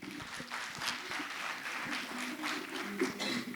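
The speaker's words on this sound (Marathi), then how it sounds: "जोरात टाळ्या वाजवा" An audience at an annual school gathering applauds after a freestyle performance, a faint, distant patter of many hands that stays fairly steady throughout.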